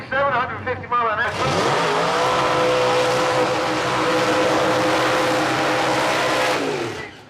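A drag racing car blasts down the strip at around 150 mph, a loud sustained engine roar with a rising pitch lasting several seconds before cutting off. Brief talk is heard just before the run.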